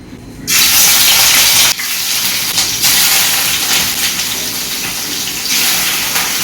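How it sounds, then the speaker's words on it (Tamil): Washed pieces of country chicken drop into hot oil for a curry, setting off a loud, sudden sizzle and hiss that continues steadily with slight surges, heard alone without talk. "ஏற்கனவே கழுவி வச்ச கறியை இப்போ நான் எண்ணெயில் போட போகிறேன்."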